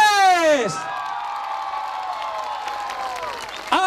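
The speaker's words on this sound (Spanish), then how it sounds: "Más fuerte el aplauso y un tremendo grito a la cuenta de 3, 1, 2 y 3." A concert crowd at a year-end cultural event claps and cheers loudly after a voice counts them in, the noise sustained and then breaking off, with a performer's voice at the start.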